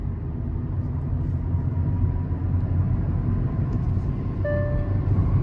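A 2024 Hyundai Verna sedan accelerating in fourth gear, a steady low engine drone and road rumble heard from inside the cabin, with a faint whistling tone near the end.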